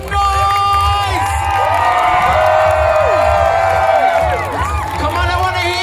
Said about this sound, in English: Let's see you make some noise.